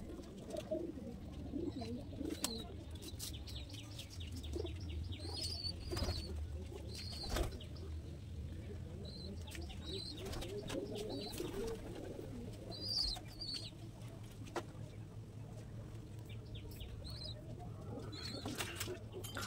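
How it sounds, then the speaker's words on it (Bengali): Pigeons of various breeds, including Lalsira and KTM Teddy, coo softly and repeatedly in a loft, with occasional wing flaps and shuffling amid a low steady background hum. "এখানে বিভিন্ন কোয়ালিটির পায়রা দাদা রেখেছে"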